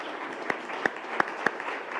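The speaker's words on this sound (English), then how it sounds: "Please give them a huge round of applause" An audience applauds at a 2018 women's business forum: a steady bed of clapping from many hands, with a few sharper individual claps popping out above the crowd.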